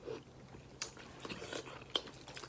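Crab shells are bitten and crunched during a family meal, with a few sharp cracks standing out against soft, close chewing and quiet mouth sounds.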